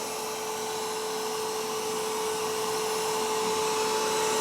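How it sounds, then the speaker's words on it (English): Square robotic mop and vacuum running steadily with its spinning mop pads, a constant close whirring hum with a thin high tone, no pauses and no voices. "You see those mop heads spinning."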